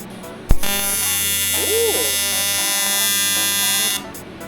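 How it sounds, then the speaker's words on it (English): An arc welder tacking aluminum starts with a sharp crack and then holds a steady, loud electric buzz for about three and a half seconds before cutting off abruptly. "Tacking aluminum is always the hardest part, in my opinion."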